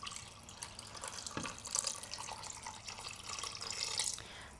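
Water is poured into a cooking pot while making jollof rice, a close, splashy trickle with bright bubbling and dripping that swells slightly toward the end.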